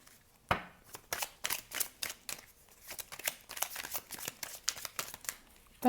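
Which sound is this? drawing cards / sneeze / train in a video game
drawing cards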